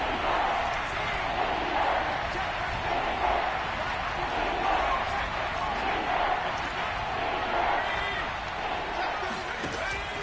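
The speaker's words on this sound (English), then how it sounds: "The crowd getting into it as we come up on a big 3rd down." Football stadium crowd roaring and cheering steadily ahead of a big third down, a broad far-off wash of voices under an announcer's commentary.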